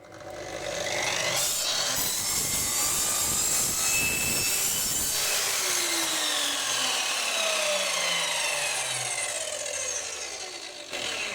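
A GTM HM 1032 mitre saw cuts through SPC laminate, its blade whining loudly as it spins up, holding a strained, high-pitched cut for several seconds, then winding down alone with no talk.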